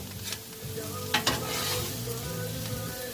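Brussels sprouts sizzle steadily on a Blackstone flat-top griddle, a dense, continuous frying hiss with a couple of brief scraping stirs, close and fairly loud with no talking.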